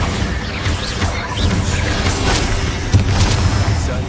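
A Bombarda spell blast in Hogwarts Legacy, a dense booming burst with crashing debris and rumble filling the whole moment, loud and close, with a sharper hit near the three-second mark.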